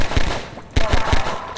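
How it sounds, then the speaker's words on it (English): A mounted turret in Half-Life 2 fires at breakable crates in loud, sharp bursts of rapid reports. A few closely spaced shots land near the start, then a second cluster follows after a brief pause. "The turret firing at the breakable crates behind teaches players not to take the threat head-on"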